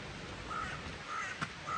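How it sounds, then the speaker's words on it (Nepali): A crow caws a few times at a distance over a steady waterfall hiss in Scotland, the calls short and spaced apart. "चराचुरुङ्गीको आवाज आइरहेछ।"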